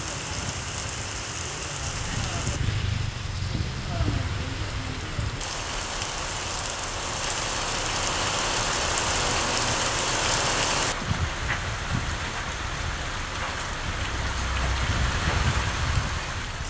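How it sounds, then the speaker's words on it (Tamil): Light drizzle falls steadily in Theni, Tamil Nadu, a continuous soft hiss of rain that runs for the whole stretch with a faint engine rumble underneath and no talk. "தேனியில தற்போது சாரல் மழை தொடர்ந்து பெய்துகிட்டு வருது"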